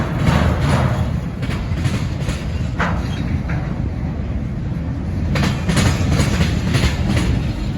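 A Norfolk Southern freight train rolls past close by with a steady, loud rumble and rhythmic clickety-clack of wheels over rail joints, including hazmat tank cars, without talk.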